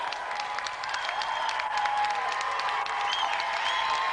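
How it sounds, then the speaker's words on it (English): A television game-show studio audience applauds two celebrity guests with a dense, steady wash of clapping that holds at an even level throughout, with faint crowd noise mixed in. "let's have another round of applause for our two celebrity guests, Hugh Higginson and Mark Wingett"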